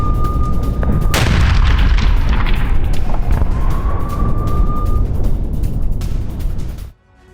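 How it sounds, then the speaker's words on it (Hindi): Loud, continuous rumbling booms from Israeli bombing across the Lebanon border, heard in news footage as dense roaring blast noise with a brief sharp crack near the start, cutting off abruptly at the end. "लेबनान की सीमा में घुसकर इजराइल की बमबारी हुई है"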